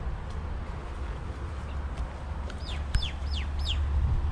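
Several short, rising bird chirps ring out over a low outdoor rumble, clustered near the end, on a farm in rocky mountains near Taif, Saudi Arabia.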